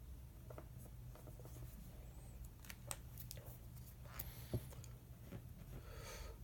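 A pen or pencil scratches out a math expression by hand, faint, close strokes and taps scattered irregularly over a quiet background hum.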